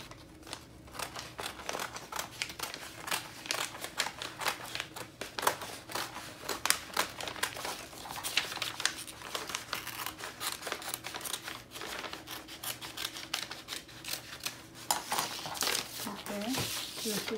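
Scissors cutting out a paper dress pattern piece for a circle dress with a yoke, with steady snipping and paper rustling throughout while someone talks over it.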